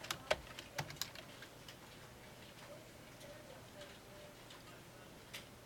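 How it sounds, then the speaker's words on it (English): Code is typed on a computer keyboard, producing faint, scattered key clicks with a few sharper taps over a quiet room hum. "It doesn't take long to type it."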